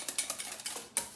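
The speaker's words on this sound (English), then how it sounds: "And give it one last good whisk." Homemade mayonnaise being whisked in a bowl, a quick run of light rhythmic metallic taps and clinks up close, with no talking.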